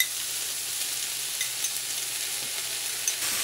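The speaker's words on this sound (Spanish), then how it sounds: "le hemos dado un golpecito a nuestro pimiento aquí en la sartén, añadimos el tomate." Chopped pepper and tomato frying in a pan, a soft, steady close sizzle with faint crackles and no voices.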